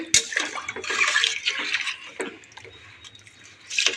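Water pours from a glass into soaked seeraga samba rice for biryani in a cooker, a close splashing gurgle that tapers off, then a second short pour begins near the end.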